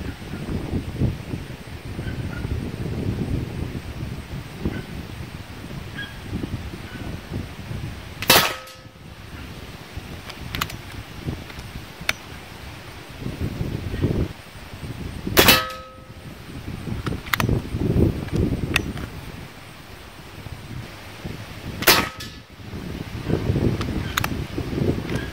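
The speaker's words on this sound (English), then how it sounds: "Okay, here goes 50 yards, 5 shots." A PCP air rifle is fired from a bench on rubber rest bags at a 50-yard target in fairly strong wind, with several sharp, separate shots spaced a few seconds apart over steady wind noise.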